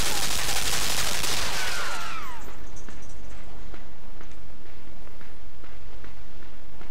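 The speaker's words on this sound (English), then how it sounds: "Damn guns." Gunfire in the video game Limbo opens with a loud, sharp burst. It quickly fades into a steady, rough background rumble that lasts to the end.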